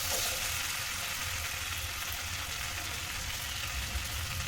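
Boiled potato fries in hot oil in a pan for dabeli street food, giving a steady, close, even sizzle with no talking.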